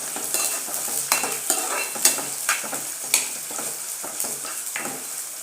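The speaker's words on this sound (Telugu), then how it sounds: "ఉల్లిపాయలు, పచ్చిమిరపకాయలు వేసేసుకొని చక్కలా తిప్పుకోండి ఒకసారి." Onions and green chillies being stirred in a frying pan for dondakaya curry, with steady sizzling and repeated scraping strokes of a spoon against the pan, close and alone.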